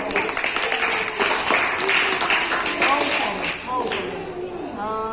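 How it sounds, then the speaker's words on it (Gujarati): A group claps in applause for Dhruvil's mother, a dense, steady patter of hands lasting several seconds with voices talking and calling out over it. "ધ્રુવીલના મમ્મી માટે એક તાળી પાડી દો."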